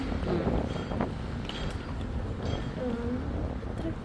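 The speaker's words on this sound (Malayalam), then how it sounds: "ഇവിടെ നിന്നിട്ട് ഇങ്ങനെ ഭയങ്കര തണുത്ത കാറ്റാ വന്നോണ്ടിരിക്കുന്നത്" Strong cold wind buffets the microphone in steady gusty rumbles at Strasbourg railway station, France, with faint voices talking underneath.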